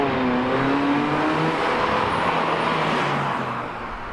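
A Vauxhall Astra Estate sleeper with a 2.0 16v turbo engine and F16 gearbox heard from inside while driving: a loud, steady engine drone with rising harmonic tones, easing off slightly at the end.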